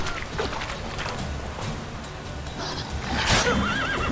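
A horse in the video game Witcher 3 neighs with a sharp, rising whinny near the end, over a continuous rumble of galloping hooves and game ambience.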